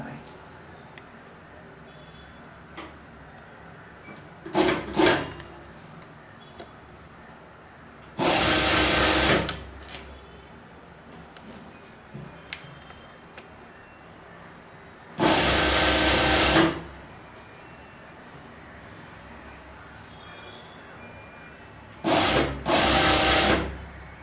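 Sewing machine stitching fabric shorts, running in four short bursts separated by quiet pauses, loud and close against a soft background hum.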